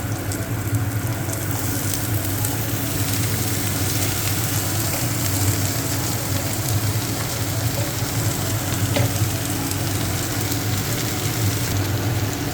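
Chopped dhenki greens fry in a pan with a steady, close, unbroken sizzle that holds at an even loudness for the whole stretch, with no voices.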